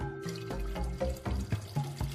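Water runs in a steady stream, as in a simple optical-fibre demonstration with a flashlight, a continuous splashing gush close by with small bubbling surges and no talk.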